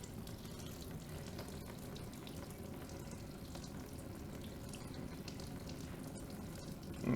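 Coolant draining from the radiator drain plug of a BMW K1600 GTL motorcycle, a steady continuous splashing pour of liquid into a container, constant and fairly faint throughout.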